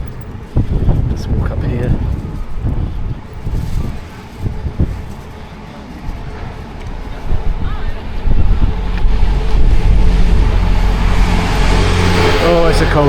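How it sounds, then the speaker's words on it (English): Cold wind blowing along a Sheffield city centre street near Fitzwilliam Gate: low rumbling gusts over distant traffic, with someone speaking briefly. "Oh, it's a cold wind today."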